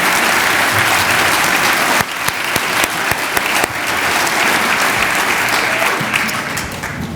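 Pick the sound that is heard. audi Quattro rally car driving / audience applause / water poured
audience applause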